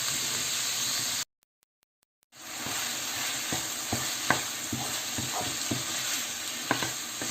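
Ground meat sizzles and hisses steadily in a hot pan while cooking for spaghetti bolognese, with repeated scraping stir strokes and a brief silent gap early on; no talking.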